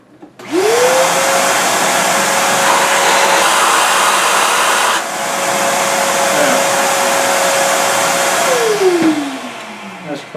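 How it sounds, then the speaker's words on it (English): A shop vacuum sucks up a pile of metal shavings left from machining with a boring bar, running loud and steady close by for about eight seconds before spinning down. "Let me grab that with the vacuum real quick."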